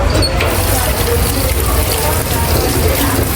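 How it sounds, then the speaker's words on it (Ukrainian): Water gushes steadily from a tap into a deep, large sink in a school cafeteria kitchen, a loud continuous rush throughout. "Потім ми їх перекладаємо в глибоку таку велику раковину і заливаємо водою."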